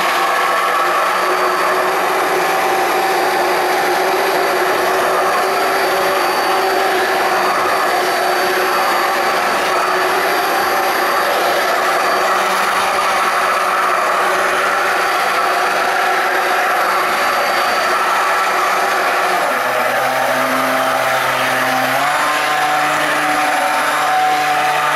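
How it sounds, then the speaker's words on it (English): A stick blender whirs continuously while mixing a high-temperature soap batter made with coconut oil and stearic acid, a steady, close motor drone that shifts pitch slightly near the end. "And excuse the stick blender there."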